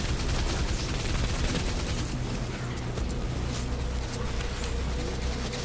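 Steady, loud Destiny 2 gunfire with overlapping bursts and booming impacts forming a dense, unbroken barrage up close, with no voices.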